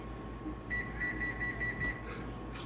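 Kitchen oven timer beeps in a quick run of about eight evenly spaced, high electronic bleeps, moderately close over faint room hum, with no talking.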